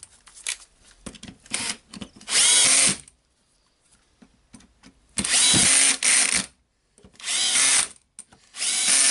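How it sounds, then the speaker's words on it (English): A power screwdriver drives screws back into a Makita 18V angle grinder, loud whirring bursts of a second or so separated by quiet pauses and faint handling clicks. "Tighten the screws back."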